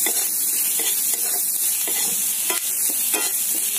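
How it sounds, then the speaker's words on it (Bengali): A medium onion frying in oil left from frying a fish head, for a spinach and fish-head curry, with a dense close sizzle and quick scraping stirs in the pan and no voices. "পেঁয়াজটাকে একটু ভেজে নেব"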